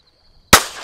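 A single loud shotgun blast fired at a low-flying group of teal ducks during a waterfowl hunt, sharp and close after near silence, with a short decaying tail.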